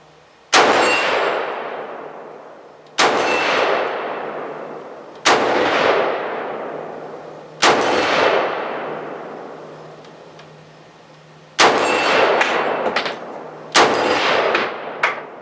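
An M14 rifle fires 7.62 rounds at steel targets outdoors, six loud, separate shots spaced a few seconds apart, each followed by a long ringing decay.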